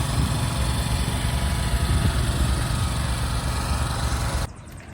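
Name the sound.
lawn mower running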